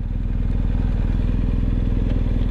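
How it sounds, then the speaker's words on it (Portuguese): A BMW R1250 Adventure motorcycle rolls downhill on engine braking, its steady, throbbing mid-pitched engine drone close and continuous, with no one speaking. "Descer aqui no freio motor. O freio motor dessa moto é muito bom."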